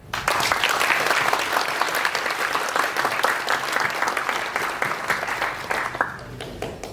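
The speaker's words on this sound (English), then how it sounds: "you should give yourselves a round of applause" Loud, sustained applause from university graduates and guests at a graduation ceremony, a dense wall of clapping that holds steady for several seconds before tapering off near the end.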